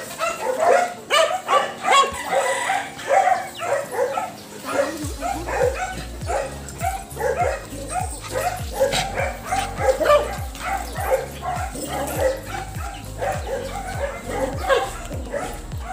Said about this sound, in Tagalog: dami aso.